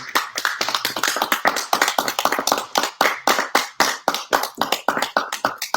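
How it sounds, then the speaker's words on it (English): Applause for author James Michael Dorsey at a book event for The Lagoon, a dense, steady patter of nearby hand claps from a modest group, lasting several seconds without talk. "a big round of applause for James Michael Dorsey, author of The Lagoon"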